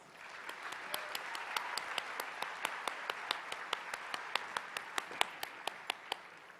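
Steady applause from a crowd at a high school graduation ceremony fills the room, with one set of claps standing out in a regular rhythm over the general patter.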